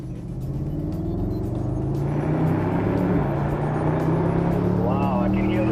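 A 2012 Mercedes-Benz SLS AMG Roadster accelerates hard on a race track, its engine note rising steadily and loud throughout, heard from inside the car with people talking over it.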